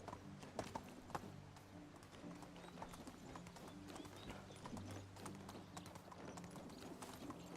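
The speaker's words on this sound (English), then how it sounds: "I'm commandeering your horse." Horse hooves clip-clopping in the medieval life-sim game Medieval Dynasty, a steady rhythmic run of hoof taps over a busy background of game ambience, fairly close and moderately loud throughout.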